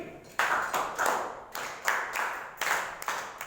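Students in a Std 9 English class clap for a classmate in short, rhythmic bursts, roughly two per second. The clapping sounds close and fairly quiet, with no talk over it.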